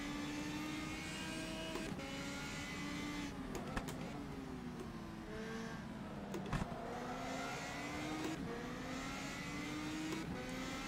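Race cars roar continuously through an rFactor2 sim race, engines rising and falling with gear changes as several cars jostle closely, with brief knocks of contact near the middle.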